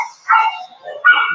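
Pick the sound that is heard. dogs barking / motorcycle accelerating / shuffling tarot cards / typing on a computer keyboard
dogs barking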